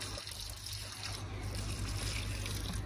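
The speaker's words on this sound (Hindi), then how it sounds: "अब मैं इनको पानी डालने लगा। बहुत ज्यादा हैवी है बाल्टी तो।" Water pours from a heavy bucket onto potted plants in a steady, fairly faint trickle that runs the whole time.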